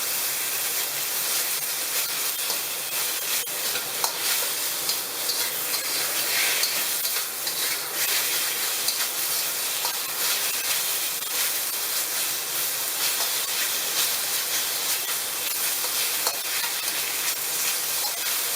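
Chopped beef frying in a pan for a beef and tomato dish, a steady loud sizzle with scraping stir noises running throughout, with no talking.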